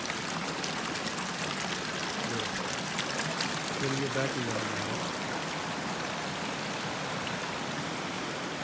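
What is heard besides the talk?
spring water welling up from the ground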